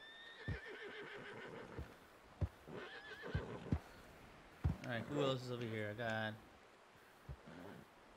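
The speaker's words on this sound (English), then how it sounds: "Come on, horse. You got it." Horse whinnying in Red Dead Redemption 2 Online, a few loud drawn-out neighs with brief sharp hoof knocks, heard up close while someone talks over it.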